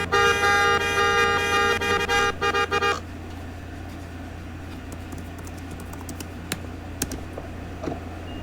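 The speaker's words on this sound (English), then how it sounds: "I'm trying to honk this guy." A car horn honks in Roblox car spotting on a public server, several steady tones sounding together for about three seconds, loud and close, then cutting off to quieter game ambience with a few faint clicks.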